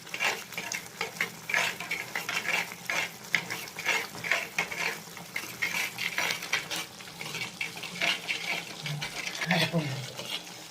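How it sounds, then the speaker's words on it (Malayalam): Spice powders fry in a pan for a fish curry while a utensil stirs them, giving a steady sizzle with rhythmic scraping and clinks against the pan. A voice talks over the cooking. "അത് ശകലം നേരെ ഇങ്ങനെ ഇളക്കുമ്പോൾ ആ പൊടികൾ ഇതിനകത്തൊന്ന് മൂക്കുമ്പോൾ"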